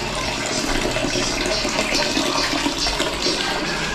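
Strong water gushing steadily from a household tap, a loud continuous rushing splash close by with no pause.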